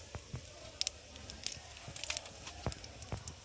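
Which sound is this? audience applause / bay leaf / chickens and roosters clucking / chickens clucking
bay leaf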